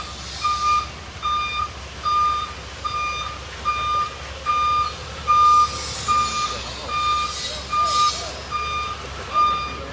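A truck passes by with its reversing alarm beeping in a steady, regular rhythm, clear tones repeating about once per second over a low engine rumble and some background noise.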